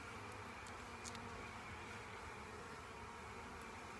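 Honeybees, including returning drones, hum around an opened nucleus colony hive: a dense, even buzzing drone, fairly faint and unbroken, with no talk.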